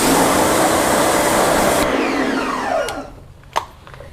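Water spray rinsing a car wheel after a non-acid wheel and tyre cleaner, a loud steady broadband hiss for about three seconds that then stops, leaving a few faint drips and taps.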